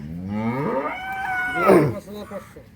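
A Holstein Friesian cow at a cattle sale in Dinajpur lets out one loud, close moo that rises and then falls away, with faint background noise after it.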